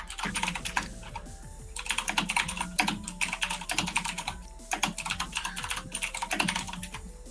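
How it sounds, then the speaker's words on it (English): Rapid clicky typing on a mechanical keyboard with Cherry Blue switches, close and crisp, in quick bursts separated by short pauses. "Is that a mechanical keyboard? Yes, Cherry Blues."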